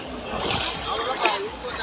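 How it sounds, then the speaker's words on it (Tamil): Footsteps wade through shallow sea water near a temple at night, a brief continuous sloshing and splashing with a voice faintly present. "தண்ணிக்குள்ளே தான் நடந்து போயிட்டுருக்கேன்"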